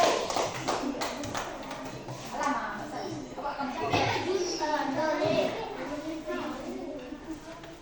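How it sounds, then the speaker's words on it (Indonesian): Children in a coding training class clap for a group, scattered uneven hand claps mixed with lively kids' chatter and voices throughout, fairly close and moderately loud. "Beri tepuk tangan dulu."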